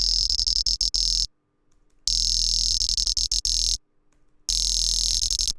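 A buzzing synth bass with its filter resonance taken out, for a jump-up drum and bass cricket-style laser bass, plays in choppy rhythmic bursts separated by two abrupt silences.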